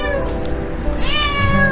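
A cat meows with long, clear rising and falling cries, close and fairly loud, alone over a low background hum.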